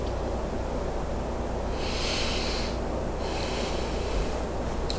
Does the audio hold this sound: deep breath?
yes